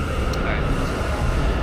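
A New York subway train on the 7 line to Queens rumbles steadily throughout, a broad continuous roar of wheels and carriage noise with a brief high squeal near the start.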